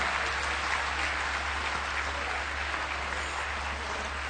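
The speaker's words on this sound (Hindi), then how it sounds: "सभी तालियों का घोष से उनका स्वागत करें।" An audience at a gathering in Burari claps together in a dense, steady round of applause that carries on at an even level throughout, with no talking.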